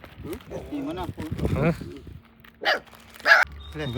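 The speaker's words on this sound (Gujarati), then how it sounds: "કૂતરાને 35 ની પાર્ટી કરાવી દઈએ મસ્ત મજાના બિસ્કિટ પાર્લેજી અને દૂધ" A dog being treated to Parle-G biscuits and milk gives two short, sharp barks near the end, rising over people talking nearby.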